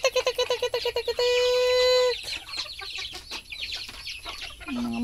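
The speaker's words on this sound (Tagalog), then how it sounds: "Mga manok natin." Backyard chickens cluck in quick staccato bursts, with a long drawn-out call from one hen, and more clucking and chick peeps follow nearby.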